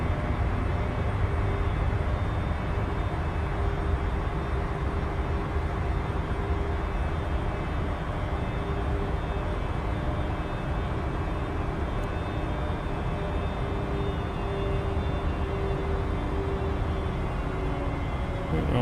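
An airliner climbs out after takeoff from Fort Myers in Microsoft Flight Simulator, a steady, loud engine roar and broadband rush that holds unchanged throughout with no talking.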